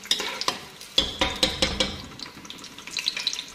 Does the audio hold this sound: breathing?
no